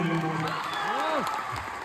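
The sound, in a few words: audience applause at an awards event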